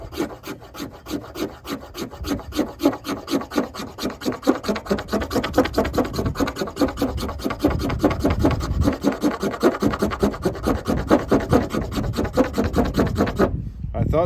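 A knife made from a rusty paint can scrapes steadily along a stick of fatwood, the inner core of a branch, in a close, continuous rasping rhythm of rapid strokes for about thirteen seconds before stopping abruptly.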